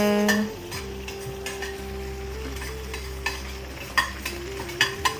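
Tomatoes sautéing in a pan for tomato thakkali thokku, a Tamil relish, give a steady close sizzle broken by scattered ladle scrapes and clinks, with a faint tonal hum underneath and no talk.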